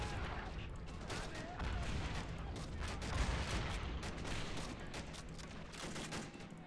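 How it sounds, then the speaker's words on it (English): Springfield rifle shots in the RobZ Realism Mod, heard amid dense battlefield noise as overlapping bursts of gunfire and distant booms, with a voice talking over the din. "Feels like I hear a couple of Springfields."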